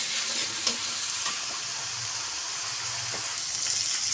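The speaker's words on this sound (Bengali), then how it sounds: "পেঁয়াজটা ভাজা হয়েছে" Onion paste sizzling in a wok as it finishes frying, a constant hissing fry with occasional spatula scrapes and clinks, close and with no talking.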